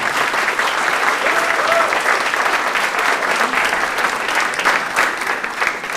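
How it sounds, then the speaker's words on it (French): Cinema audience in a Grenoble hall applauding themselves, a dense, steady wash of many hands clapping continuously throughout, loud and sustained with faint crowd murmur beneath. "Oui, vous pouvez vous applaudir."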